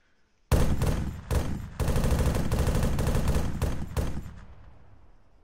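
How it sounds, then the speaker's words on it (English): Bursts of rear-mounted machine gun fire from a Chinook helicopter in the Arma III video game, loud and close, in several rapid volleys with short gaps before one long sustained stretch and a fading tail. "we're going to test out the guns on it, side guns, back gun"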